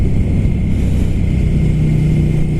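A Ducati Scrambler Flat Track motorcycle, a small, light bike, pulls hard under throttle, its engine drone loud and steady with wind rush over it, heard from the rider's position.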